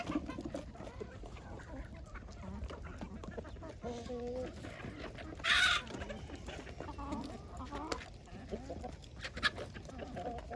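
Free-range local hens clucking nearby in short, scattered calls, with one louder squawk midway, under quiet talk.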